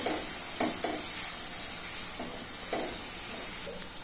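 Red chili powder frying in oil over a low flame, a soft steady sizzle with a few light stirring scrapes.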